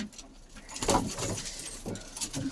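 Pigeons or doves in a backyard coop, with soft cooing and bird calls close by, plus light rustling and scattered chirps across a short stretch without speech.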